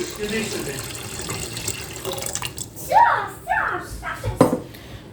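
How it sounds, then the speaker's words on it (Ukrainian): Salted water pours and splashes onto buckwheat in a multicooker bowl in short bursts, with a person speaking nearby. "заливаю її вже солоною водою"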